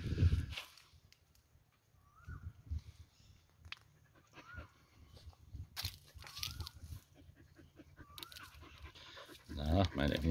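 Several dogs pant and move around a rural property outdoors. The breathing comes in close, uneven bursts, with rustling steps and occasional bird calls in the background.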